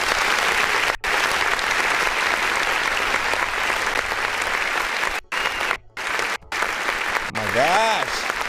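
Canned applause plays on an online music review show, a dense, loud burst of clapping that runs nearly the whole stretch with brief dropouts, and a voice speaks near the end.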